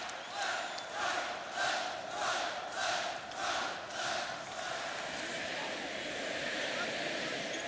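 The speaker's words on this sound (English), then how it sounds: "And the crowd chanting to his footsteps as he marches off" A large basketball arena crowd chants in a loud, rhythmic pulse of about seven beats, then dissolves into a continuous roar of crowd noise.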